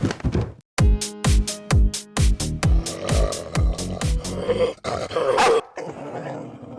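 Small puppies barking in a rapid series of sharp, close yips, then a busier stretch of overlapping yelps and whimpers.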